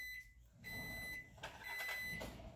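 A kitchen timer goes off with sustained, high electronic beeps, in two bursts separated by a short gap, alone and fairly clear against a quiet room.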